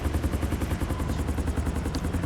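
Helicopter in GTA 5 flying over a scenic city area, its rotor and engine making a steady loud rhythmic chop throughout with no gaps.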